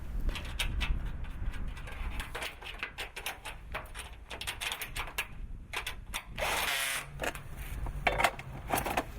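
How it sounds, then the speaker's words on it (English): Metal cone parts of a GEObox Standard pellet storage system being bolted together side by side: irregular clicks, taps and ratcheting scrapes, close and fairly quiet, with no talking. "The next step involves fitting the cone parts and bolting them side by side."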